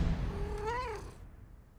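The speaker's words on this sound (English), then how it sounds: "Now your cat's gonna meow." A cat meows once, a rising and falling cry heard fairly close over a low background rumble, then fading out.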